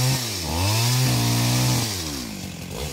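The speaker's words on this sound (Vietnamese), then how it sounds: "Do đây nó trống mấy anh em mình cưa nửa cây không nè mọi người" A chainsaw roars close by while cutting a Sao tree in a garden near a grave. The engine pitch swoops up and down as it bites into the wood, continuous and loud with no talk.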